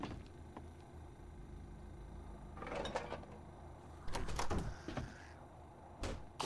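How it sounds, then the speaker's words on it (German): A door shutting in the survival game 7 Days to Die, heard as a few clattering knocks and a scraping slide over a quiet room tone, fairly faint, with no voices. "Mach mal die Tür hier zu"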